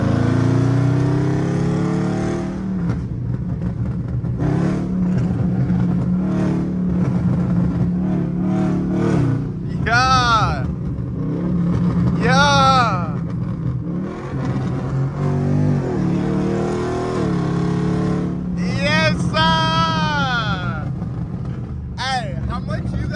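A Dodge Charger Scat Pack with a Hemi V8 driven from the driver's seat, its engine revving up in several rising, whining pulls over a steady road rumble, with someone talking over much of it.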